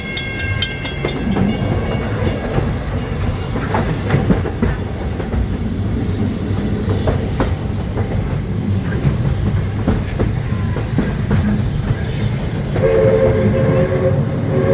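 A steam train at the Magic Kingdom rolls along the tracks with a steady rumble and rhythmic clatter, a horn or whistle sounding briefly near the start and again near the end.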